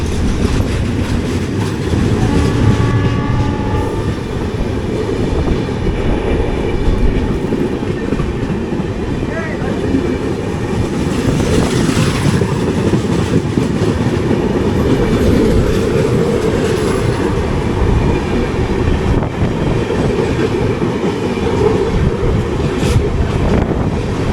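Mangalore-Kacheguda Express (12790) running, heard from inside an AC 3-tier coach: a steady loud rumble of wheels on rail with faint rhythmic clickety-clack and wind noise throughout, no talking.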